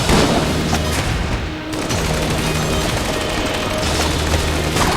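Steady, continuous gunfire from Enter the Gungeon, a dense rattling stream of shots with a brief dip midway, loud and unbroken with no talk over it.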